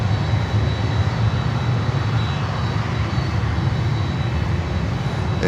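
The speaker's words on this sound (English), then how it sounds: "here comes Eastern Air Express from Havana in Cuba" An Eastern Air Express airliner arriving from Havana, Cuba, at Miami: a steady, loud roar of aircraft engines fills the whole stretch without letup, with no talk over it.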